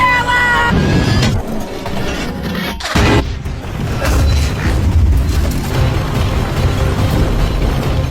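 Anti-aircraft gun fire in the war film T-34: heavy booms and crashing blasts over a rumbling engine and mechanical clatter, loud and close, with a voice briefly heard.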